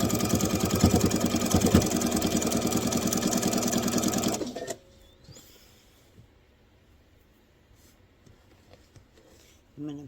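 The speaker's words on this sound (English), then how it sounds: "I'm going to sew until I'm about approximately 2 inches from my corner" A sewing machine stitches a star heart table runner, running loud and steady for about four and a half seconds before stopping, then giving way to quiet fabric handling and small clicks.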